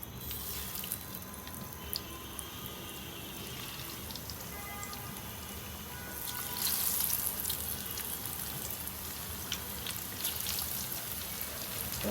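Pieces of shashlik sizzle in a pan over medium heat, a steady close crackle of frying that thickens and grows louder partway through as more pieces go in.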